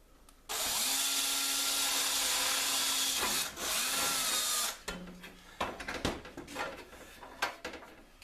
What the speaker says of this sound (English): basically I'm going to drill out every one of those holes